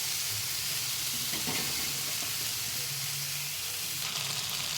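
Fish frying in a pan sizzles with a steady, dense hiss and a faint scrape of stirring partway through, close and continuous with no talk.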